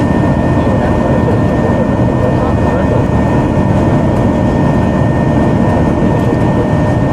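Airliner jet engines roar loudly and steadily during the climb after takeoff, heard from inside the cabin with flaps and slats retracted on a flight to Paphos, Cyprus; a dense, unbroken rumble fills the whole stretch.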